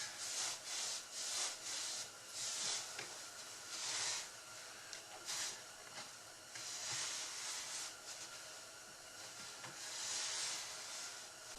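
A damp rag wipes glue squeeze-out off a wooden panel edge, faint soft rubbing strokes in an irregular back-and-forth rhythm, close and quiet.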